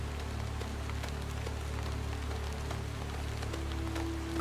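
Steady rain in the video game Chasing Static, an even hiss of falling drops with a faint low hum underneath and no voices.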